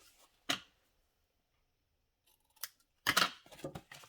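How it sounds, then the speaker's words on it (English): Scissors snip through excess paper while trimming a mounted card background, a few separate close cuts with quiet gaps between them. "And I'm gonna cut that excess."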